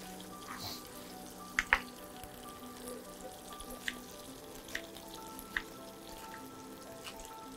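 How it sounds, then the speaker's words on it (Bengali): Potatoes fry in a pan for a Bengali dish, a quiet steady sizzle with scattered sharp pops and crackles spaced out over several seconds, no talking. "এবারে আলুটা ভেজে দাও"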